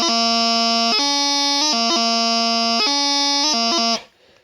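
Bagpipe tachums descending to low G, with crisp grace notes flicking between a sustained, bright, loud drone-backed melody note, played alone for about four seconds before stopping.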